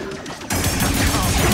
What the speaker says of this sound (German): Das ist halt immer so cool, wenn er so 10 Schüsse gleichzeitig reflektiert.